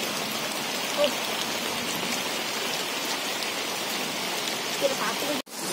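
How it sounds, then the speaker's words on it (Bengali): Heavy rain pours outside a kitchen, a dense continuous roar of drops striking surfaces, steady and loud throughout, with a brief dropout just before the end. "বাইরে প্রচুর বৃষ্টি হচ্ছে"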